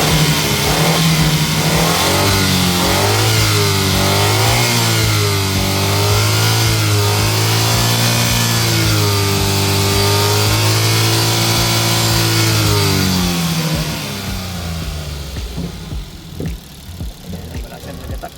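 A DA17V van engine revs up and down in repeated rising and falling sweeps, loud and close, then drops back to a lower idle near the end.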